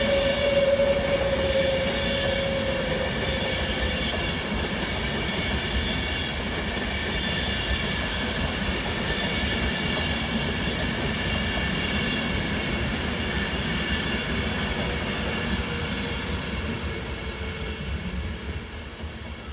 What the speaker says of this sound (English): pulling round the bend now is another Virgin Trains West Coast Pendolino service to London Euston